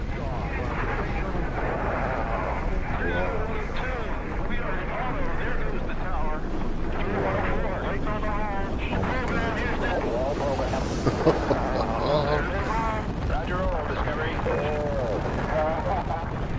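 Space shuttle main engines igniting and lifting off in the Shuttle Commander game, a loud continuous broadband roar that holds steady throughout, with a voice talking over it.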